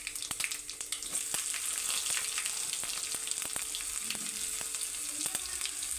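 Garlic, mustard seeds and cumin sizzle steadily in hot oil, a dense close crackle with scattered sharp pops from the seeds and no voices over it.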